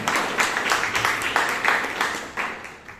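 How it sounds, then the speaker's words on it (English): Audience at a Toastmasters meeting in Bangalore clapping, a modest room of hands beating in uneven bursts that gradually taper off. "Please give them a huge round of applause all the time."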